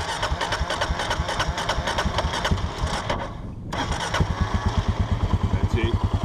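A Kawasaki KLR motorcycle engine runs close by off-road, its rapid thumping pulses rising in revs, dipping briefly, then picking up again, with people talking nearby.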